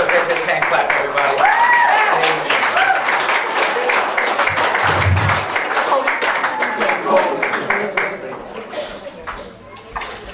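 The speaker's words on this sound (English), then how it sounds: "Give her a big, big hand clap, everybody." A church congregation applauds after an Easter baptism, with sustained hand clapping across the room and voices calling out over it before the applause tapers off.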